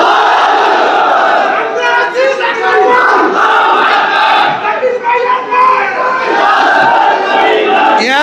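A large crowd at a political rally roars back the Nara-e-Takbir chant, loud massed voices shouting in unison and sustained across the whole stretch, swelling in waves.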